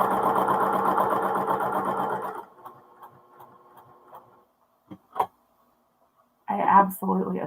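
A sewing machine runs a tight seam on a hexagon placemat, its motor whirring loud, fast and steady for about two seconds before stopping. A few faint clicks follow, then a brief burst of voice and handling noise at the end.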